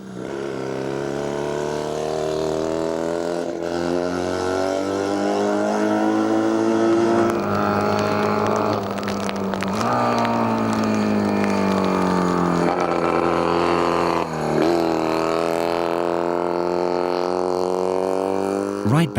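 A 560cc water-cooled Scott two-stroke motorcycle racing at the Klausen hill climb, its engine loud and close, rising and falling through repeated revs and gear changes.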